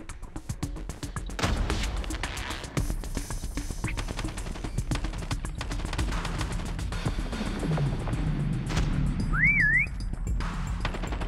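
A single rising-and-falling prop hunt whistle in Call of Duty: Mobile, on the Crash map in Easter Prop Hunt mode, chirps briefly near the end over a dense bed of game noise and gunfire.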